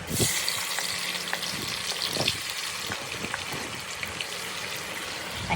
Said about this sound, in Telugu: పచ్చిమిర్చి టమాటా వేసుకొని పచ్చి వాసన పోయే వరకు వేయించుకోండి